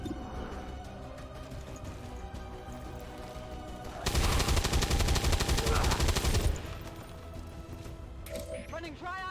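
Automatic gunfire in XCOM 2 roars in a dense, loud burst lasting a few seconds mid-clip, set against a steady bed of game sound and music before and after.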